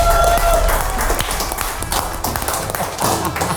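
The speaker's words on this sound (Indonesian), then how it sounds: "Kita kasih tepuk tangan yang meriah untuk bintang tamu kita." Loud, lively applause and clapping from a studio audience welcoming a guest star on an Indonesian talk show, with taps and thumps running steadily through the whole stretch and some voices mixed in.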